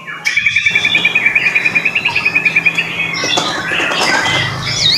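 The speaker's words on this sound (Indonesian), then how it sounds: "dari burung sogon okay" Sogon bird calling, a rapid run of bright, evenly spaced chirps that repeats for a couple of seconds and then breaks into a louder, harsher tangle of squawks and calls up close.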